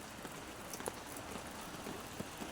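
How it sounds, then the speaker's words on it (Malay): Rain falling outdoors among garden plants, a soft, steady patter of drops with a few scattered louder taps, faint and continuous, with no talk. "Hujan. Hujan."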